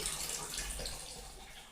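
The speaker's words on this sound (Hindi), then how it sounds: "मुझे आ रही है पानी बहने की आवाज़।" Water flowing in a house, likely from a tap, a soft, continuous stream heard at a distance and fairly faint, with no talk.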